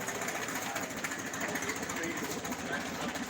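A Hercules 4-cylinder engine in an Oliver research tractor idles steadily with a continuous low mechanical rumble and fine rapid ticking, close by and constant throughout.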